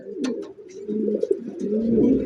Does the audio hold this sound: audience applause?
no